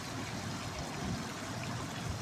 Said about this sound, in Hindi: मैं इसके अंदर तकरीबन ये 1 गिलास पानी का ऐड करूँगी।